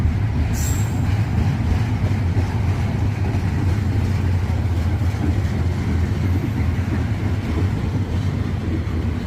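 A long, slow Norfolk Southern freight train rolls past close by in Bedford, a loud, steady low rumble of wheels on rails with a brief high metallic squeal near the start.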